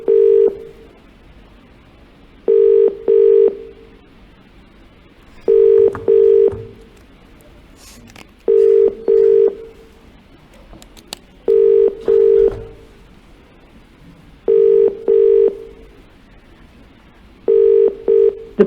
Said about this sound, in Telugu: రాజ్ తరుణ్ కాల్ రింగ్ అవుతోంది